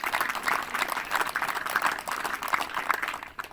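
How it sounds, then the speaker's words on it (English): Audience applause at the official opening of the Kōpū Marine Precinct, honouring the lead contractors Fulton Hogan; steady clapping from a crowd fills the moment, fairly even throughout before easing off at the end. "that deserves a round of applause"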